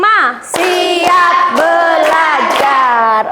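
A classroom of children clap a patterned rhythm together, the sharp claps spread through a loud chorus of young voices chanting along.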